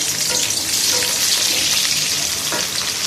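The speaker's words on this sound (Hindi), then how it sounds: "हाणे मां हिन में बसर विझंदसि। मुंहिंजो घी गरम थी वियो आहे" Onion sizzling and frying in hot ghee for a Sindhi beeh palak dish, a steady dense crackle throughout with small pops and occasional stirring, close and loud with no talk.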